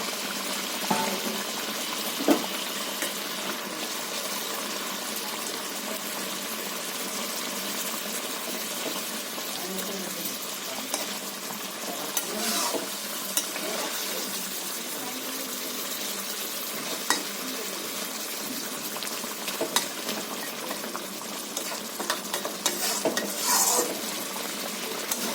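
Fried fish pieces go into a pan of potol and small brinjal curry and are stirred, giving a steady broadband sizzle with occasional scraping clicks throughout, no talking.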